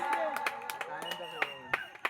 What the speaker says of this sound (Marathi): टाळ्यांचा वर्षा होते, टाळ्यांचा वर्षा.